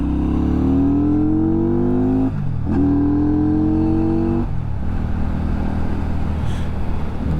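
A Benda motorcycle engine revs up through gears while riding, loud rising drone with a brief drop and shift, then a steady lower hum with wind rush, close and continuous.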